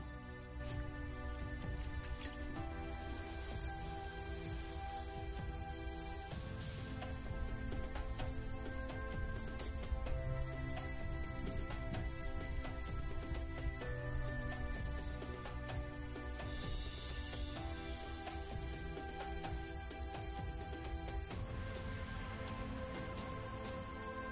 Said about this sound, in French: Je vais finir par un petit arrosage à l'eau de pluie.